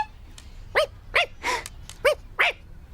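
A dog lets out about six sharp, separate barks in an irregular rhythm, close and fairly loud against a quiet background.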